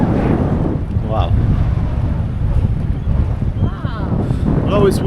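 Strong wind near the Jubilee Bridge in Scotland buffets the microphone in a steady low roar throughout, with faint voices briefly audible beneath the rumble.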